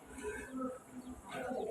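Small bird calls in an outdoor scene, soft repeated cooing and chirping notes over a steady low background hiss, fairly faint and distant.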